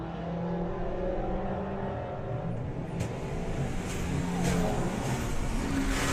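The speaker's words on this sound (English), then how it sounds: "That's one seriously quick Audi." An Audi drag racing at Santa Pod during VW drag racing qualifying: a sustained engine roar builds and revs hard, heard from a distance, with no voices.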